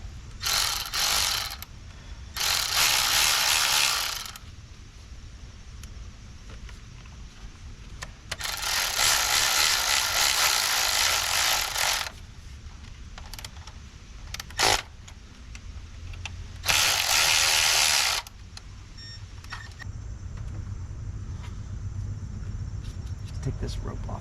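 A ratchet drives a screw back in on a Dodge Sprinter van during swirl flap repair work. Several loud bursts of rapid clicking ratcheting come in separate runs, with quieter pauses and small tool knocks between them.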